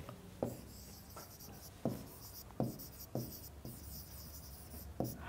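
A pen scratches across paper as a sentence is written by hand, a run of soft, close scribbling strokes with sharper taps between words, quiet and without speech.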